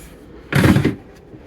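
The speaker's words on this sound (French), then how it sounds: "Et on peut quand même ouvrir les petits tiroirs qu'il y a là" Small drawers of a dresser slid open, one short, fairly loud wooden scrape and rumble close by in an otherwise quiet room.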